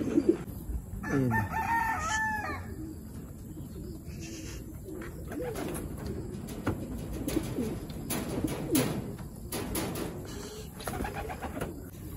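Racing pigeons on a self-toss training return, heard as cooing and fluttering over steady outdoor background noise, with a rooster crowing nearby and a few brief clattering sounds.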